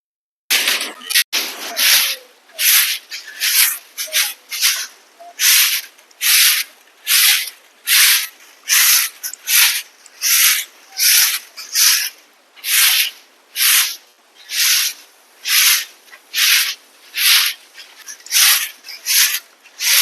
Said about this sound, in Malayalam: ആ സൈഡും കൂടെ അടിച്ചു വാരിയിട്ട് വരട്ടെ